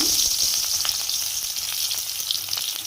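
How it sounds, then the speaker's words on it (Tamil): Crushed, peeled garlic cloves fry in oil, giving a dense, continuous close sizzle with faint crackles and no pauses. "பூண்டு பாருங்க இந்த மாதிரி பொன்னிறமா வறுத்து எடுத்துக்கோங்க"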